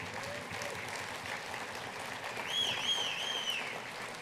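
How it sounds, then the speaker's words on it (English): A large audience at an awards gala applauds steadily, the clapping swelling slightly toward the end, with a few whistles rising above it. "give yourselves a round of applause real quickly"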